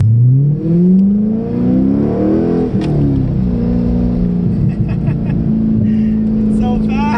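A 2002 Chevrolet Corvette C5 Z06 accelerates hard, its engine note climbing steadily in pitch up close and loud, with a brief break in the rise as it shifts, while a person talks over it.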